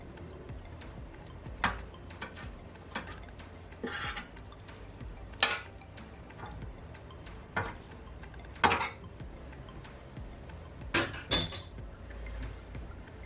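Kitchen clatter of a baking pan of barbecue chicken being handled and slid into a home oven, with scattered metallic knocks and clunks over a low steady hum, several sharper bangs standing out.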